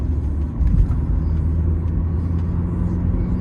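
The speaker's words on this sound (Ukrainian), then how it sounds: "Друга передача, третя. Газу." A manual-transmission car driving out of town while shifting gears without the clutch, a steady low engine rumble from inside the cabin with a brief swell as it pulls, no voices.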